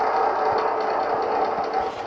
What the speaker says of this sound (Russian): Включим сейчас наш вентилятор